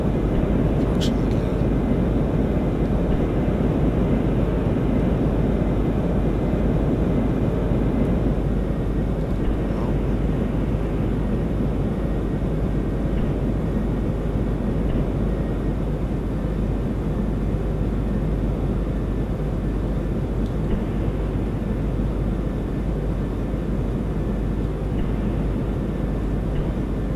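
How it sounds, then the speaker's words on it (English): Spacecraft hover engine firing in the Orbiter 2010 space flight simulator during a lunar descent, a steady, loud, broad roar holding without a break throughout. "I'm going to use my hover engine right now because I'm seeing that we are falling 200 meters a second"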